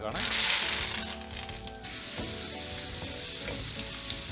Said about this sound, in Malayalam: സോ വെളുത്തുള്ളി ചെറുതായിട്ടൊന്ന് മൂപ്പിച്ചെടുക്കുക കേട്ടോ